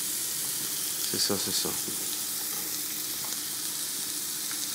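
Raw rutabaga starting to cook in a pan, a loud, even hiss of frying that carries on steadily throughout, with brief clatter and a few spoken words near the start.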